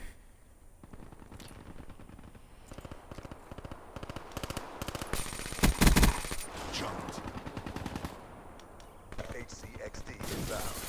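Video game gunfire: rapid automatic bursts crackle continuously, with a heavier blast near the middle and scattered shots around it, with the player's voice occasionally heard over the din.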